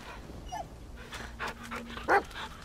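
A dog in the video game The Medium pants in short breathy bursts with a brief whimper and a sharp bark-like yelp near the end, close against a quiet forest backdrop.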